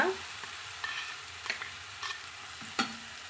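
Ground paste being stirred into a sizzling tempering in a pan while cooking a broad bean aviyal, with a steady frying hiss and several brief scraping stirs, close and alone.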